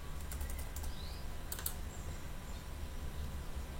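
Quiet keystrokes on a computer keyboard come in a few quick bursts over a steady low hum of room noise.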